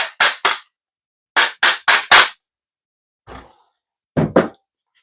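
A rubber mallet taps a pistol all around to simulate a drop, giving sharp, loud knocks in quick bursts of two and four, then a softer single tap and a final pair.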